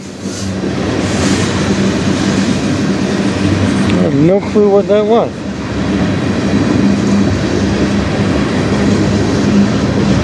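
A train rolls past steadily on the Strathroy Subdivision, a loud, continuous rumble with rail noise. Someone speaks briefly partway through over the passing cars.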